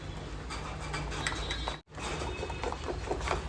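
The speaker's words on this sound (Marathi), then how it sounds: "तसं हे हाताने फेटून घ्यायचं आहे व्यवस्थित" Tomato pakoda batter is beaten by hand in a bowl, giving a steady wet patter and squelching scratch, close and continuous with a brief break midway.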